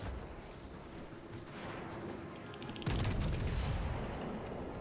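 Battleship broadside salvo in World of Warships Legends, starting as a low rumbling backdrop and then bursting loud near the three-second mark into a heavy, sustained booming roar of several guns firing together.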